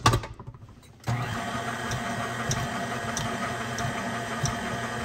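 An electric mixer runs steadily on medium speed through carrot cake batter, a continuous whirring hum starting abruptly after a second of quieter handling noise and holding level to the end.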